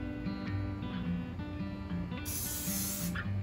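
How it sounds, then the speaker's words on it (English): Spray 90 adhesive hissing from a can onto the top of a Nintendo arcade control panel, a steady bright burst of about a second over a background of music. "we're going to spray the top of the control panel first"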